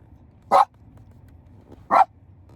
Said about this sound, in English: The dogs are doing a lot of barking because we're seeing people walking dogs and coming in and out